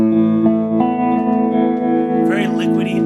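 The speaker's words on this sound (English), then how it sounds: "I'm going to bring the tremolo to about halfway, so we're about halfway speed." Electric guitar on the middle pickup played through a Fender Excelsior 13-watt amp with square-wave tremolo at about half speed, sustained chords pulsing steadily, with heavy reverb and brighter notes near the end.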